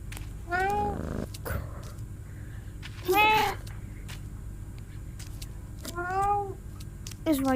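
Cat meows in the video game I Am Cat come in three distinct, rising-and-falling cries spaced a few seconds apart over a quiet game background, with clicks between them.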